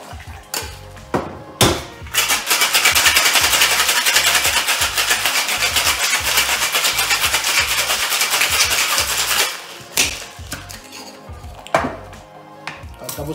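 Ice rattles hard inside a cocktail shaker mixing a rum Mai Tai, a dense rapid clatter sustained for several seconds, bracketed by a few separate knocks and clunks.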